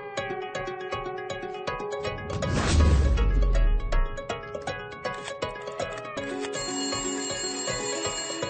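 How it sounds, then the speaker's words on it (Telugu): A phone rings with an incoming call in a film scene, a continuous melodic ringtone with a brief noisy crash-like swell partway through. "ఇంకో నంబర్ నుంచి మనం ట్యాప్ చేస్తున్న నంబర్ కి కాల్ వస్తుంది సార్"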